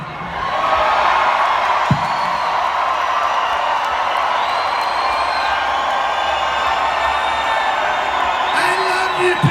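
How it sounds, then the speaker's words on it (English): Crowd at an evening Pro-Am event at the Bird's Nest erupts in sustained cheering, whoops and yells for Donald J. Trump, a loud, dense roar that holds steady throughout with scattered shouts rising above it. "give a big round of applause for Donald J."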